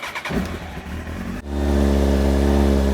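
An engine splutters briefly, then catches and settles into a loud, steady idle from a Honda Fireblade motorcycle, with a deep rumbling hum close by.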